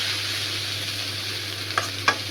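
Food cooking in a pan just after salt goes in, with a steady sizzle and hiss throughout and two brief stirring scrapes near the end.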